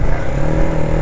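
A Keeway K-Light 150cc motorcycle engine runs up loud and close in a short burst, with a steady low engine tone and no talking.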